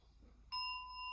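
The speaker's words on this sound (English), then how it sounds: "Ring the bell, just begin." A meditation bell is struck once to open a guided mindfulness sitting, giving a clear bright strike that rings on with a sustained shimmering tone in a quiet room.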